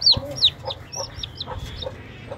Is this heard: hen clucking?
yes